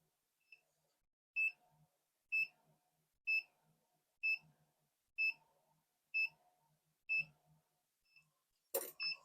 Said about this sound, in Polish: Alarm nam się włączył.